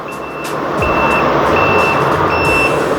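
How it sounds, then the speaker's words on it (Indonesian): Hazard lights switched on on an OFERO STAREER 3 lithium electric bicycle give a loud, steady series of evenly spaced electronic beeps, close by, over a constant motor-like whir. "ini ada sen ganda atau lampu hazard"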